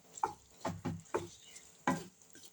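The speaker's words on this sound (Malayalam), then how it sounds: "ഈ ഗ്രേവിയിലേക്ക് നല്ലപോലെ ഇളക്കി കൊടുക്കുക" Soya chunks are stirred into a gravy in a pan, with about five distinct wet scraping strokes at an uneven rhythm, close by and moderately loud, with a light sizzle between strokes and no voices.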